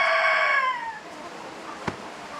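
A rooster crows loudly and close, the long harmonic call trailing off after about one second, followed by a faint cluck or short chirp from the flock near the end.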